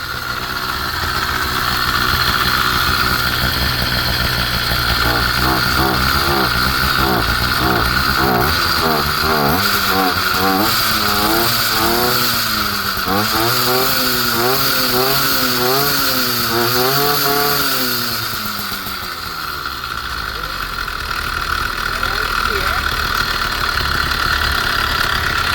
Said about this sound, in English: Give you a couple little revs on there.